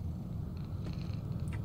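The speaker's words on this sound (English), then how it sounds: "I hear a cat." A cat purrs and gives a faint meow in a horror video game, a steady low purr running throughout with a brief higher call near the end, heard alone.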